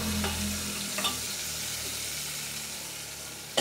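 Beef and onions for bistek Tagalog frying and being stirred in a pan, a steady close sizzle with a few scraping stirs and no talking.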